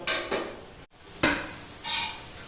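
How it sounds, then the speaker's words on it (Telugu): Sugar-free gulab jamun balls deep-frying in oil over a low flame give a soft bubbling sizzle, broken by a few scraping stirs and light clinks of a utensil against the pan. "చూడండి ఇక్కడైతే మనకు గులాబ్ జామ్ అనేది డీప్ ఫ్రై అవుతుంది."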